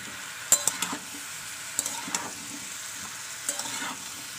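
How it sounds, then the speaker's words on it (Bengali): Pumpkin with ginger and garlic fries in a pan over a high gas flame. A steady hiss of sizzling runs throughout, broken by several sharp scraping clinks as the spoon stirs. "আদা রসুন দেওয়ার পরে আবার একটু কষিয়ে নেবেন, যাতে আদা রসুনের গন্ধটা চলে যায়।"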